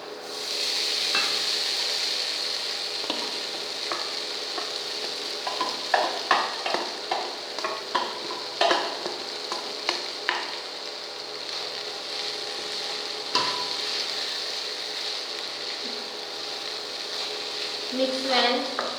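Poha (flattened rice) is stirred in a frying pan over a steady sizzle, with repeated scraping and tapping of the spoon against the pan throughout.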